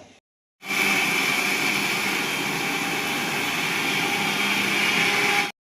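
An electric mixer grinder whirs continuously, blending cumin powder, chilli powder and egg masala into a spice paste; a loud, steady motor drone starts abruptly after a brief pause and runs unbroken until it cuts off.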